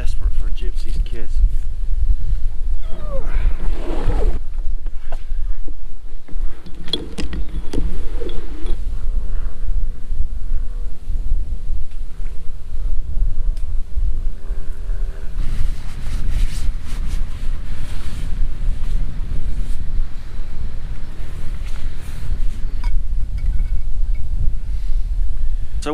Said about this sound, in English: It is a bit windy here.